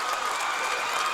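A big crowd at a high school basketball game in Harbour Station claps and cheers, a loud, dense roar of applause sustained without break.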